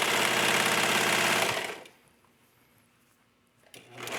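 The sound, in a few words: sewing machine stitching fabric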